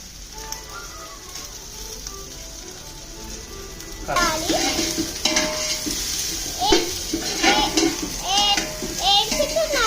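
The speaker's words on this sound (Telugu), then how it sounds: "ఇప్పుడు అన్ని వేసి వేయించాలి." Whole spices and bay leaves frying in hot oil for Hyderabad chicken dum biryani, with a steady sizzle that turns louder about halfway through as more goes into the pan, alongside stirring scrapes and a voice speaking over it.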